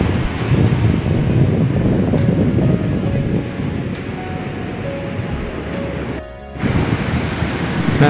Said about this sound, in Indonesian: Dan di sini ombak lautnya cukup tinggi ya, dan di sini ya, anginnya juga cukup kencang teman-teman.